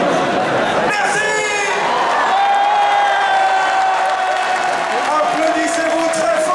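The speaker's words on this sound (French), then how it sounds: "Applaudissez-vous très fort parce que vous êtes un public magnifique!" A large festival audience applauds and cheers loudly and continuously, dense clapping with whoops layered over a steady crowd roar.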